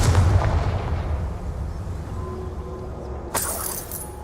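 Confringo, the blasting curse in Hogwarts Legacy, lands as a heavy booming blast that rumbles and fades over a few seconds, followed by a sharp bright burst near the end.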